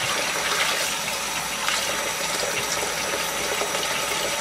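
Tap water gushes steadily into a sink being filled for washing knitted photo props, a loud, continuous rushing that stays even throughout with no talking.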